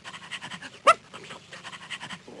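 Bumpy Dog, a cartoon dog in a Noddy CD-ROM game, pants in a quick, even rhythm of soft breathy puffs, close and moderately loud, with one brief louder squeak near the start.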